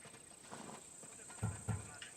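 Two hoof clip-clops from a Macedonian battle horse in Assassin's Creed Odyssey, struck close together and moderately loud over a faint steady background hum.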